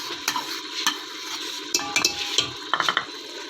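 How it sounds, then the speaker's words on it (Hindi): A spoon scrapes and stirs through yogurt added to cooked black chickpeas in a pot, giving close irregular clinks and wet scraping over a faint sizzle. "अब मैं इसमें ये तकरीबन आधा पाव के करीब दही था जो मैंने डाल दिया"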